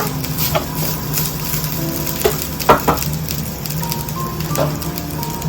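Grated coconut dry-roasting without oil in a frying pan on a stove, giving a steady close sizzle and crackle with a few louder stirring scrapes partway through.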